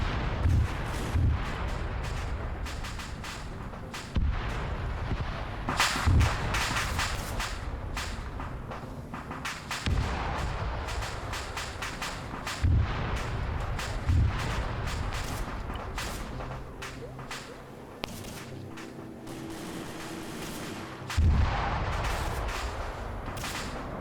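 Artillery in a Vietnam-era multiplayer war game, landing as repeated heavy thuds and sharp cracks at irregular intervals over a dense rumble of continuous battlefield noise.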